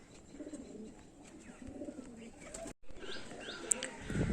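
Domestic fancy pigeons kept for sale coo softly nearby, with brief wing flaps and small chirps against a faint background.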